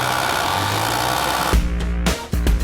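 An industrial sewing machine stitches jeans in a garment factory, with a few short, loud mechanical bursts of rapid stitching starting partway through over a background of workshop noise.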